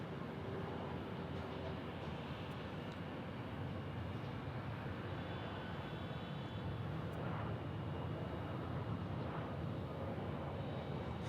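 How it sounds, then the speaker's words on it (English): A Gulfstream G650 jet at Houston Bush Intercontinental Airport produces a steady, broad engine roar at a distance, continuous and fairly faint, with no speech. "It looks like a G650 from Horseshoe Bay."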